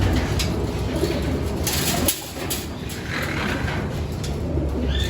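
Racing pigeons coo at their loft after a training flight, soft repeated calls close by over a steady outdoor background, with no talking.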